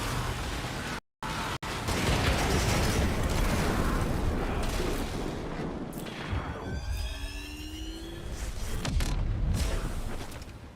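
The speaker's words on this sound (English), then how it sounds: "Cruise ship reactor has detonated." A cruise ship reactor detonating in a video game: loud, sustained rumbling blast with debris and mechanical noise, a brief dropout near the start, then whistling, descending tones over continued roaring.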